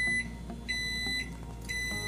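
A Panasonic microwave oven signals the end of its timer with a series of short, clear electronic beeps, evenly spaced, ringing out over a quiet kitchen hum with no talking.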